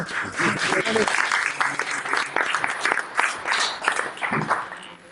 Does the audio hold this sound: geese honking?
no